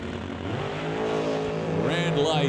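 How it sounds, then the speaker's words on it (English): Red Mustang drag racing at the DOORWARZ event, accelerating down the strip at about 160 mph with a loud, rising engine roar and a commentator talking over it. "Quigley going 160 miles an hour in the Mustang"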